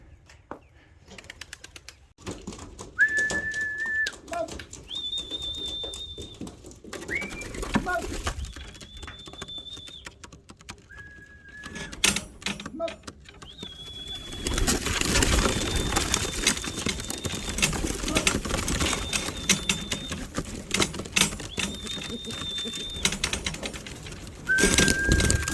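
Racing pigeons coo and flutter in at a loft trap, with repeated wing flaps and scattered bird calls around a person, plus sharp whistles and some distant background noise.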